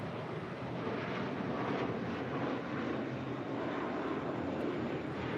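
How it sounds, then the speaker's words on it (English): JetBlue Airbus A321 jet airliner at LAX, a continuous broadband engine roar heard at moderate distance, steady and without speech. "This is an A321 JetBlue flying to JFK flight 1124."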